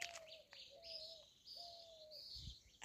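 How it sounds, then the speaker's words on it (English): Doves cooing and other birds chirping in a backyard garden food forest early in the morning, soft repeated coos under higher bright calls, with no voices. "So there are so many birds out here with me."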